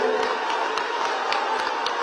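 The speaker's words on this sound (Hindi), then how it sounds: "ताली बजाओ सतीश जी के लिए" A crowd at an outdoor political rally in Faridabad claps and cheers for candidate Satish, a steady spread of clapping with regular sharp accents roughly every quarter second.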